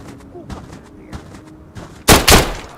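Gunfire in the shooter game Road to Vostok: faint distant pops, then two sharp, loud close shots near the end, with a voice talking faintly beneath.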